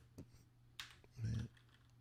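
A few scattered, quiet keystrokes on a fast gaming keyboard, isolated clicks and one duller thump over a low background hum, faint and close.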